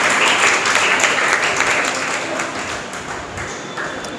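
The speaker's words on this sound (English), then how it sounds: "There should be a big clap." A school audience at a prize-giving ceremony applauds loudly, a dense close burst of clapping that fades gradually over a few seconds.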